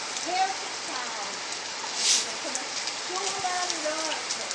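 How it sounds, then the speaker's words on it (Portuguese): Rain falls steadily on a backyard, a constant loud hiss of drops close by, with a person's faint voice audible beneath it. "Chuva maravilhosa!"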